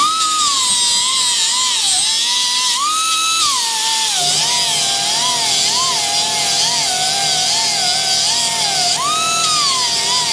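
A power tool grinds a taper on a Suzuki RM250 part with a continuous high-pitched whine, its pitch rising and dipping as the load changes, loud and close for the whole stretch.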